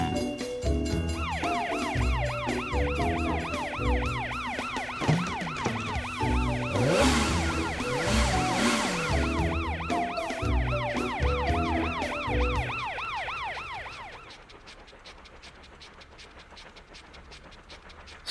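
Cartoon toy train sounding a repeated, warbling bell-like siren tone loud and close over busy animated background music, fading out near the end.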